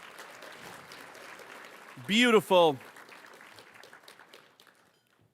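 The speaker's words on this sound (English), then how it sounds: "Let's get one more round of applause" Applause from a gala audience patters in the background, with a brief voice speaking over it midway before the clapping fades out to silence.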